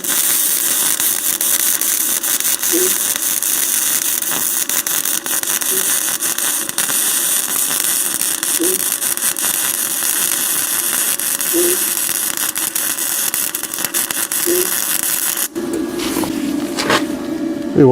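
A HITBOX MIG250 welder runs a seam with flux-cored wire, a continuous crackling buzz with faint regular pops that holds for about fifteen seconds before cutting off into a different, clattering sound.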